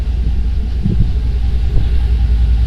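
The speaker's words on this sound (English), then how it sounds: "Wow, that's a lot deeper. All right, listen to that rumble." Chevrolet Silverado with a Borla exhaust idling, a loud, deep, steady low rumble close by with slight pulsing and no voices.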